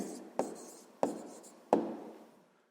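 A pen writes a math answer on paper by hand, three short scratchy strokes spaced evenly apart, close and quiet with no talk.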